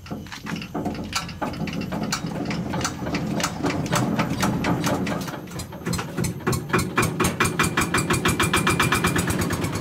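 Pineapple fibre decorticator machine running, an engine-driven clatter that builds into a rapid, regular rhythmic thumping, close and fairly loud.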